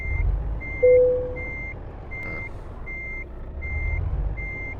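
A truck in Euro Truck Simulator sounds its reversing alarm, a steady series of evenly spaced beeps, loud and clear over a low engine rumble, with no voices.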